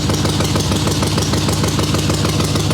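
A swap-meet chopper motorcycle with a Mikuni VM38 carburetor idles on choke, a steady, loud, close rumble with fast even pulses and no pause.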